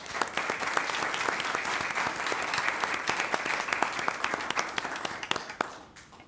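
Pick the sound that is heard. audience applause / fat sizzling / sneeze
audience applause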